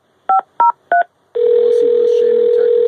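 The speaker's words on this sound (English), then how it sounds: "I'll dial her phone number right now and get her on the phone then." Three short touch-tone beeps from a phone being dialed are followed by a loud, steady tone that carries on to the end.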